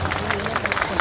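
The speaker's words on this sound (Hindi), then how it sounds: "आप लोग तालियां स्वागत करते हैं सभी साथी।" Crowd applause and clapping at a Bahujan Samaj Party political rally in Kirari, Nangloi, Delhi, welcoming a speaker; a dense, steady burst of many hands clapping with crowd babble mixed in, loud and continuous for the full second.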